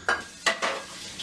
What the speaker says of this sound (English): If you'd like to do dishes with me